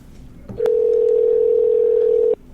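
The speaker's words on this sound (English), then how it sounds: "Phone is ringing." A single steady electronic ringing tone from a telephone line as a call is placed, held for under two seconds after a click, close and clear.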